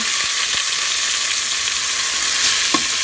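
Pork sprinkled with salt and plenty of garlic browns in a pan, giving a loud, close, continuous sizzle and crackle with a few light stirring knocks and no voices.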